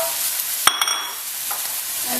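Celery, bamboo shoots and dried onion stir-frying in a pan for Changhua ba-wan filling, a steady close sizzle with a sharp spatula clack and a few scraping knocks partway through.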